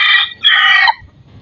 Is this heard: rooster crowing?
yes